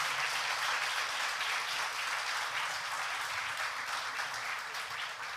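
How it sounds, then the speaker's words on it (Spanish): Sustained audience applause filling a hall at a church gathering, dense and steady throughout with no one speaking. "Vamos a darle un aplauso a estas 3 luces."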